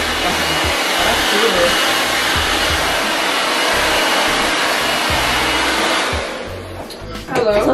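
Loud hair dryer blow-drying and stretching 4C hair in a salon, a continuous close-up airy roar that drops away near the end as the dryer is moved or switched off.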